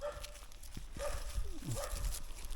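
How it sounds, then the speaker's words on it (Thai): A dog barks a few times at a distance in a rural Thai village setting, short separate woofs over quiet outdoor background noise. "หมาก็เห่านะครับตัวนี้"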